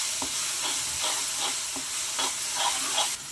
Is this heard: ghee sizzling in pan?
yes